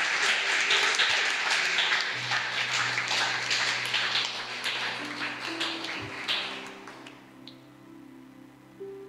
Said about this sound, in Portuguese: Você pode aplaudir a ele que fez isso?